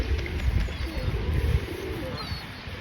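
Pigeons coo softly nearby outdoors, with a few faint chirps from other birds over a low background rumble.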